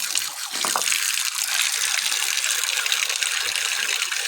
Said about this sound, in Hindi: इसको बदलते हैं पानी को, तो गिरा देते हैं